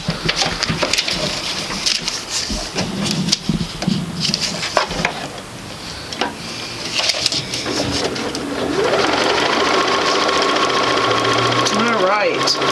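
A sewing machine stitches quilt sampler block pieces, starting amid intermittent talk and handling noise, then running as a steady, loud, continuous whir for the last few seconds.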